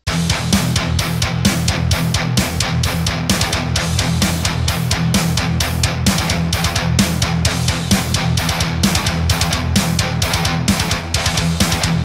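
Heavy metal guitar riff in a galloping rhythm with kick drums doubling each gallop over a steady drum pattern, in an odd time signature. The mix is loud, dense and continuous, with rapid regular hits throughout and no voices.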